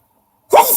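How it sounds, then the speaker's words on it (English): A single sharp sneeze bursts out suddenly after near silence, loud and close, with a breathy hiss trailing off. "I'm gonna sneeze."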